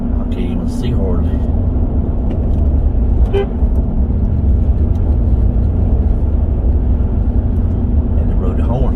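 A car horn sounds in busy morning traffic on a road, a long held tone over steady driving rumble, with someone talking throughout.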